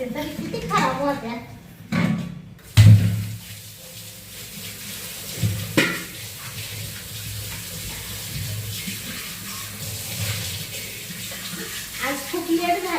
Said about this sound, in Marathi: आता आहे ना नळाला पाणी येऊ राहिलं तेव्हा या कळशान ते सगळं घसून ठेवते